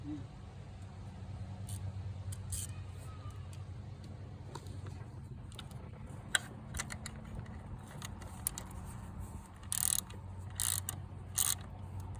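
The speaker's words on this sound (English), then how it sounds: "I'll tighten that down the rest of the way with the ratchet." A ratchet tightens an alternator bolt on a Ford Ranger with a 3.0-litre V6, giving faint, close clicking in short bursts over a low steady hum, with scattered sharper clicks toward the end.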